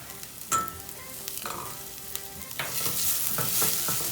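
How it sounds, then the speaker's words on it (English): Curry powder toasts in a hot pan with a rising sizzle and frying hiss, broken by a few scraping stirs of a utensil, close and clear without talk. "Curry powder to toast it on the bottom."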